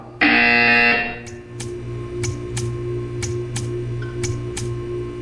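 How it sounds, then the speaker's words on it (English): A harsh electronic buzzer in the video game Portal 2 blares for about a second, followed by a steady hum and a series of evenly spaced ticking clicks. "When you hear the buzzer, stare at the art."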